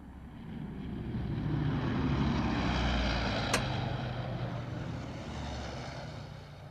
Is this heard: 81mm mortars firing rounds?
no